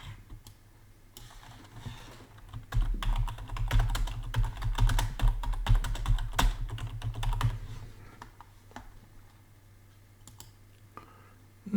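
Rapid, close typing on a computer keyboard with dense clicking keystrokes, busiest in the middle stretch and thinning out toward the end, over a low background hum.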